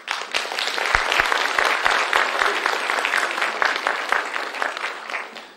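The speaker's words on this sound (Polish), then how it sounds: "Dla Państwa się należą wielkie brawa za wytrwałość" An audience claps at a school theatre and music ensemble performance, a sustained round of fairly loud applause with distinct sharp individual claps standing out, tapering off at the end.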